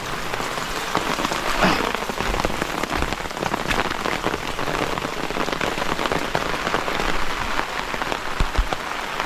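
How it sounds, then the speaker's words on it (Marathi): Steady, heavy rain pours down, a dense hiss of drops striking surfaces close by, with no voices. "चला पावसाने पण चांगली सुरुवात केली"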